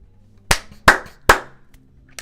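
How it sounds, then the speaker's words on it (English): Hands clap three times in slow, uneven succession, sharp and close, with no voices over them. "I don't know why I'm clapping"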